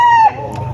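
Rooster and gamecock at a farm sale, a loud close crowing call that cuts off abruptly after a fraction of a second, with faint background noise after.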